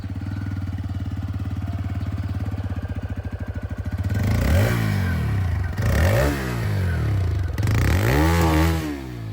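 A TVS Raider 125 motorcycle idles with a steady, even putter, then revs three times in rising and falling sweeps, each rev loud and close.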